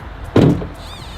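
Rezvani Tank armored bulletproof luxury SUV door swinging shut with a single heavy, solid thunk, close and alone against a quiet background.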